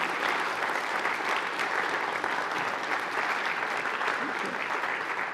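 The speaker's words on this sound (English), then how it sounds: "So let's give Kathy another round of applause." An audience at a city event in Orem applauds, a sustained, evenly textured patter of many hands clapping at steady volume from start to finish.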